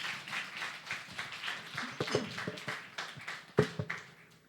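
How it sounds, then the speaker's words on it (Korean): A church congregation claps to welcome a pastor stepping up during a Korean deacon ordination service, with steady, moderately loud applause from many hands that rises and tapers over several seconds. "목사님 나오실 때 박수로 환영해 주시겠습니다"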